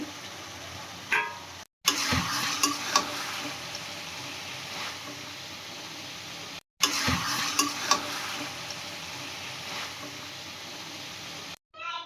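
Gulsha fish frying in a pan of curry with a moderate, continuous sizzle and a few light clinks, heard close with brief breaks where the sound drops out, no talking.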